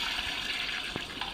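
A toilet flushing in the horror video game The Baby In Yellow, a brief watery gush heard close and fairly loud with no talking.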